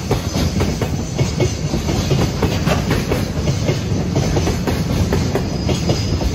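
A freight train rolls past at Himeji freight station in Japan, with steady, loud wheel clatter and rumble that continue without a break from start to end, with no voices.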